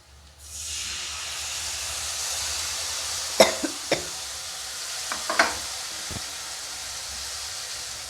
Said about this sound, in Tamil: இருபது கிராம் புளி எடுத்து கரைச்சி வச்சுருக்கேன் அதில் ஊற்றிக்குவோம்